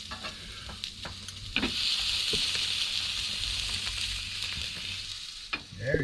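Triggerfish sausage frying in a hot pan aboard a sailboat in Mexico, a steady bright sizzle with a few soft scrapes and clinks of stirring or turning near the start and end.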